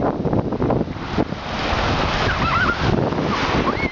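Sea waves wash steadily onto a beach while gusty wind buffets the microphone, a continuous loud roar of surf and wind as rain begins to fall, with a faint high whistle-like tone near the end.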